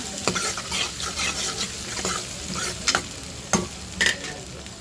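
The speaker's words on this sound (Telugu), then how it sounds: "అల్లం వెల్లుల్లి పేస్ట్ కూడా వేసుకొని బాగా ఫ్రై చేసి పచ్చి వాసన పోయేదాకా" Ginger garlic paste frying in oil in a pan, a steady close sizzle broken by several sharp stirring scrapes and clinks of a spoon against the metal as the paste is moved around.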